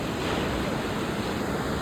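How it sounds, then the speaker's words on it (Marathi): Hot spring water falls and flows steadily over orange-stained rocks, a dense, even rushing wash close by with no voices. "इथं अख्ख्या लाईनला इकडे सुद्धा गरम पाणी पडतं आहे"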